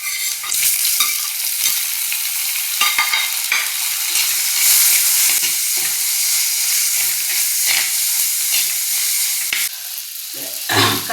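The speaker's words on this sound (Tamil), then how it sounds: "நல்லா வதக்கிட்டோம். 1 தக்காளியை போட்டுக்குவோம்." Tomato sautéed in a pan for chicken curry, loud continuous sizzle close up with repeated stirring scrapes throughout, no voices.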